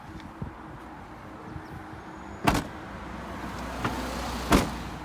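A car's trunk lid is shut after the jack, first-aid kit, fire extinguisher and reflector are stowed inside, giving a solid thump, with a second similar thump a couple of seconds later over quiet outdoor background.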